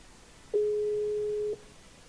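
Telephone call tone heard while dialing a prize draw winner live on air: a single steady, clean beep about a second long, close and alone over faint background hiss.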